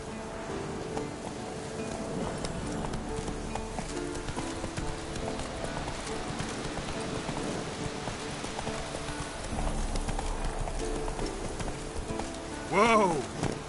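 Roach, a horse in The Witcher 3, gallops with a steady rhythm of hoofbeats over a continuous game soundscape with some rain, and a short whinny rises near the end.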